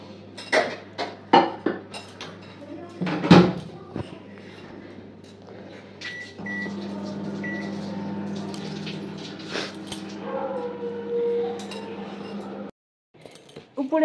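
Pots, dishes and utensils clink and clatter in a home kitchen as cooked rice is set on to reheat, with sharp knocks early on, then a steady hum and scraping under scattered clinks.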